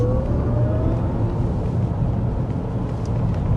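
A 2024 Chevy Blazer EV accelerating onto a freeway, heard from the cabin as a low road rumble with a faint rising electric whine, steady and close, no talking.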